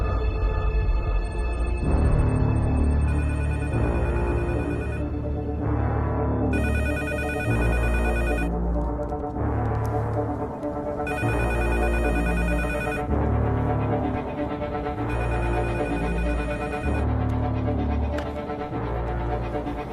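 A telephone rings with a bright electronic ringtone in repeated bursts, with short gaps between rings, loud and close over a steady background, with no voices.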